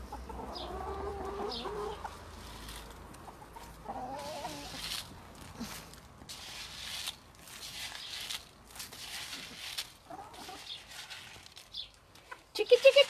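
Chickens clucking in a sunny backyard at feeding time, a steady run of soft, scattered clucks under a light outdoor bed, with a sharper burst near the end.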